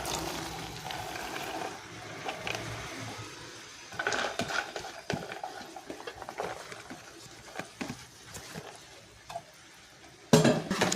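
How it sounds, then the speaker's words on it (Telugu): Onions cooking in a pan on a low flame, with soft sizzling under frequent stirring scrapes and pan clatter, close by, a sharper clunk near the end, no talk. "ఇప్పుడు ఇది కొంచెం లో ఫ్లేమ్లో పెట్టి ఉల్లికాయలు వేసుకోవాలి."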